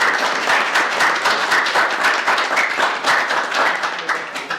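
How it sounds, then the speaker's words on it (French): An audience at a French lecture and debate gathering breaks into applause for two speakers, a dense, steady burst of many hands clapping that fills the room and tapers slightly toward the end. "j'applaudis les deux orateurs"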